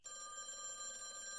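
A telephone rings in the VR game A Chair in a Room: Greenwater, a quiet, steady electronic tone held unbroken throughout.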